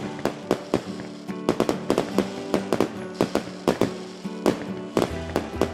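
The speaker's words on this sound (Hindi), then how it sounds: "घर के बाहर पटाखे जला रहे थे।" Diwali firecrackers burst in a rapid, irregular string of sharp, loud cracks and pops, with a dozen or more bangs overlapping near the listener, sometimes in quick clusters.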